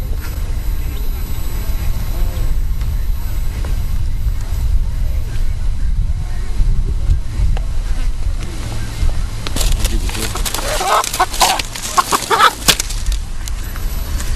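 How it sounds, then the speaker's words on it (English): Chickens cluck at a village house-building ceremony, faint and intermittent against a constant low outdoor rumble, with a burst of scratchy rustling and flapping later on. "takes out 2 chickens and gives them to the chief of Terra"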